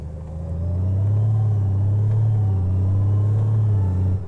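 Honda Goldwing Tour DCT motorcycle engine pulling away smoothly from a standstill, a loud, steady low rumble that swells slightly as it accelerates, close and continuous with no talk.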